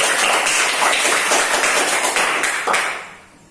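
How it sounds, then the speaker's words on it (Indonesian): A classroom group claps for a student group stepping up to present, a dense, loud burst of many hands that holds steady, then fades out at the end. "Tepuk tangan buat kelompok 3 dulu"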